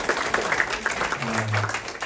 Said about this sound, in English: if you have any military on here, give them a round of applause, please